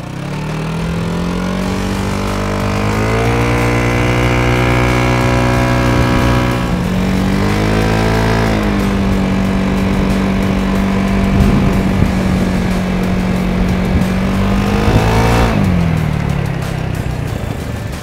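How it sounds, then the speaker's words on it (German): A Vespa GTS scooter with a SIP Pordoi racing exhaust buzzes loudly and raspily nearby, revving up and down through several gear changes as it rides. "Jetzt fahre ich mit dem Pordoi los."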